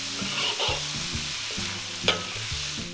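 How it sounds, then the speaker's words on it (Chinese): Pork belly fried with dried chilies and vegetables in a wok hisses loudly and steadily, with rhythmic scraping stirs and one sharp clank of the spatula. "加入五花肉，煸香煸出肥油"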